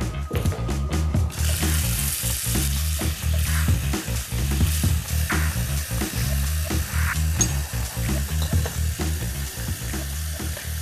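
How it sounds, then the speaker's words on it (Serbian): Oil heating in a pan sizzles and fries steadily throughout, with stirring clatter and utensil knocks, while preparing pasta with prawn sauce in a home kitchen. "može malo ulja tu unutra da se grije"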